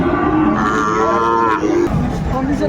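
A Sahiwal bull calf at a cattle market gives a single loud, drawn-out moo lasting over a second, close by, followed by fainter background noise.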